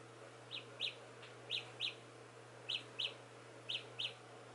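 Four pairs of short high-pitched electronic chirps from Galaxy Buds earbuds' locator sound repeat at a steady rhythm over a quiet background hum.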